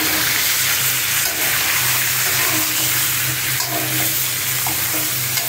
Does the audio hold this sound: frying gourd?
yes